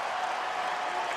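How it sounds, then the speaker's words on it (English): A basketball crowd on its feet applauding Kobe at a career high, dense sustained clapping and cheering from a large arena audience. "Crowd's on its feet for a career high for Kobe."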